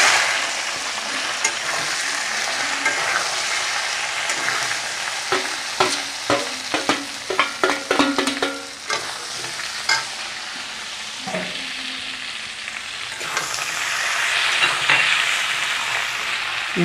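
Vegetables sizzle and crackle in a hot pan with radhuni and bay leaves, while a utensil stirs and scrapes in brief bursts over the steady frying hiss, with no talking.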